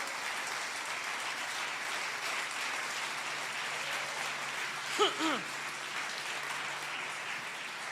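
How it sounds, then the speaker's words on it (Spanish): Congregation applause during a church service, steady diffuse clapping from many people throughout, with a brief voice rising over it midway. "Dale un aplauso al Señor."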